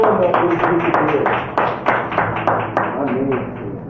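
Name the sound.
congregation applauding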